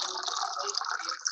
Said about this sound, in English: I just heard somebody drinking some water